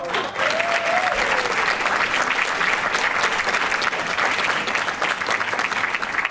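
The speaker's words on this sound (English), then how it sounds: "I ask that we share an applause for all the student athletes and their accomplishments." An audience at a school board meeting applauds a girls volleyball team, loud, dense clapping that holds steady throughout and fills the room.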